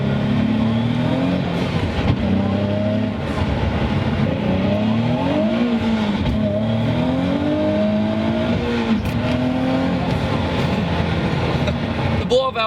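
A twin-turbo Nissan 370Z engine drones steadily while shifting gears, its pitch rising and dipping across several shifts, with a voice talking over it.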